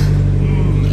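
A Nissan SR20 engine fires up after exhaust repair work in a garage, a steady loud low engine drone filling the short moment without a break.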